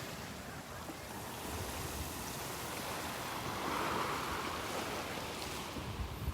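Steady wash of ocean surf at Delnor-Wiggins beach with the tide going out, a continuous broadband rush swelling slightly mid-way, close and fairly loud with some wind buffeting.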